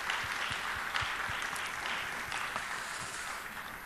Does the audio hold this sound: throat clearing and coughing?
no